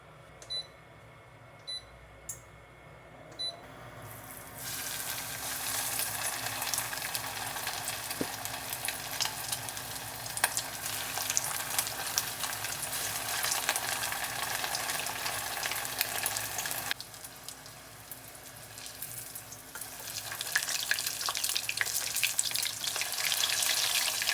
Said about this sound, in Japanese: 油を準備したら揚げていきましょう。